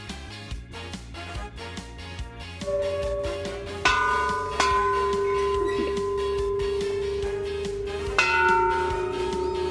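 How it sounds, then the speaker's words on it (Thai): Children strike a Thai temple bell during a merit-making visit, its long metallic rings layering and sustaining over a backdrop of other bell tones, with a few fresh strikes adding bright new peaks. "เด็กๆกำลังตีระฆังกันนะคะ"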